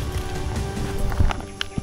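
Several horses laden with gear plod along a hillside trail, with steady close hoof clip-clops and soft thuds over a continuous outdoor rumble.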